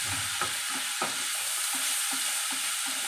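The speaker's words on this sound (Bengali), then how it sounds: "রসুনটা দিয়ে ভালো করে নাড়াচাড়া করবে" Garlic and ground lentil paste frying with radish greens in a pan, with a steady loud sizzle and regular scraping stirs about every half second, close up with no voices.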